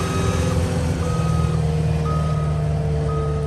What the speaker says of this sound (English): Got backup buzzer there.